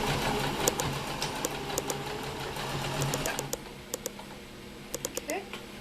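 A sewing machine hums at a low, even pace while stitching a bib made from a washcloth, with sharp clicks scattered on top as the fabric is shifted and realigned.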